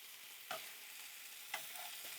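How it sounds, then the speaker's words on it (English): Silken tofu stir-fried for pad thai, seasoned with black pepper and sugar, giving a quiet steady sizzle broken by two soft scraping tosses of the spatula about a second apart. "Stir fry for 2-3 minutes."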